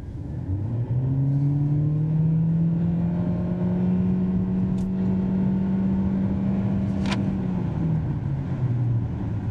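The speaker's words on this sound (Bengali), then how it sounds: "আমি এখন একটু এক্সেলারেশনটা দেখি" A BYD hybrid car in sport mode accelerates steadily, a smooth rising drone of motor and engine holding close and loud for several seconds before easing off, with no talk over it.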